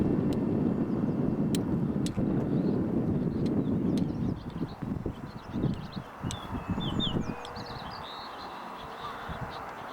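A Navy aircraft passing over Achill Island: a broad low rumble that fades out midway, with birds chirping faintly around it and no voices.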